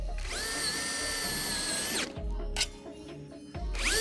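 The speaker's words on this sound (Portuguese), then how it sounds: "pelos furos abertos, fixo um perfil no outro com auxílio de parafusos autobrocantes." A power drill drives self-drilling screws to join metal profiles on a motorhome solar panel mount. A loud whining run of about two seconds is followed by short bursts and a final spin-up, close by, without speech.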